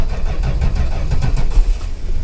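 The engine of a 1969 Dodge Charger R/T rumbles close by, running with uneven low chugging and slight revving.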